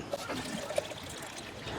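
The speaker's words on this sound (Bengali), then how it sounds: "প্রায় আধা লিটার পানি দিলাম" About half a litre of water is poured into a blender jar holding lime peel for Brazilian lemonade, a soft trickling splash with a few faint knocks, while someone speaks quietly in the background.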